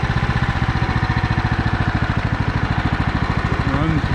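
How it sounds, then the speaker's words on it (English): A Husqvarna 1538 riding mower engine idles close by with a steady, even throbbing pulse that stays smooth throughout the clip. "See, it'll idle down."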